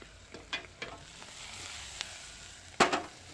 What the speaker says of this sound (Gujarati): તો આપણે મરચાં તો તળાઈ ગયા છે સરસ મજાના